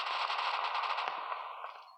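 Rapid automatic gunfire in the Modern Strike Online video game, a dense continuous burst of shots sounding loud and close for about two seconds with no talk over it.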